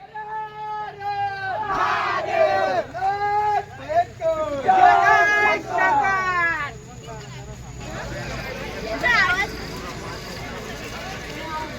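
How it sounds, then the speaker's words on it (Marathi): Large crowd of pilgrims at Trimbakeshwar temple in Nashik on a Shravan Monday, loud massed voices chanting and shouting in rhythmic waves, then settling into a dense background murmur. "त्र्यंबकेश्वरमध्ये आज भरपूर गर्दी आलेली आहे"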